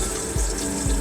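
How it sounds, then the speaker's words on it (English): Water rushes steadily into an RV toilet bowl in a 2023 Thor Tranquility 19P Mercedes Sprinter camper van as a pedal is held down, a close, continuous gush with two soft low thumps. "fill up the toilet by pressing this"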